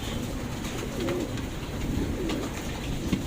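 Pigeon squabs coo softly in a loft, a low murmuring chorus that carries steadily through the whole stretch with no talk over it.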